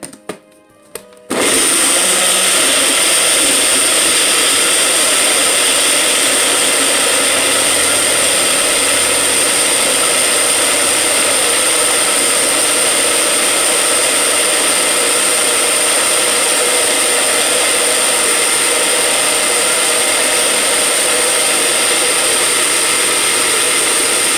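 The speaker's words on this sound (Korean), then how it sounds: "이렇게 1분 정도만 곱게 갈아줍니다" Garlic cloves being ground fine in a blender: a loud, steady whirring roar that starts abruptly after a short quiet moment and runs continuously to the end.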